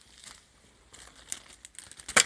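Plastic snack bags and small baggies of different sizes crinkle close by in short, irregular bursts, ending in a louder, sharper rustle.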